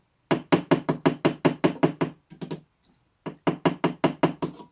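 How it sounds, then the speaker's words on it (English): A hammer strikes the top of a metal rivet as the workpiece is turned, a fast, loud, even run of sharp knocks, about fifteen blows in two bursts separated by a short pause. "keep turning your workpiece as you hammer the top of the rivet"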